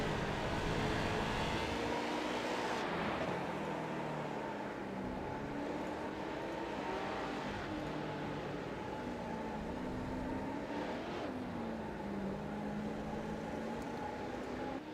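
Race cars in a sim racing game sweep through a corner, their engines droning steadily with shifting, overlapping pitch as several cars pass close together, continuous and fairly loud throughout with no talk.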